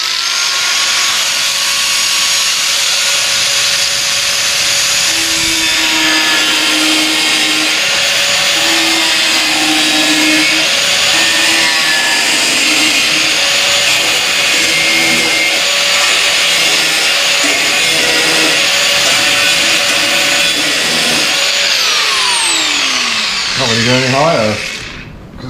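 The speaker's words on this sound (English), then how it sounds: "I'm going to use this grinder for this." An angle grinder cuts into the rear wheel arches of a Honda S2000: a loud, continuous abrasive whine with a steady pitch and scraping metal texture, held for over twenty seconds before it winds down at the end.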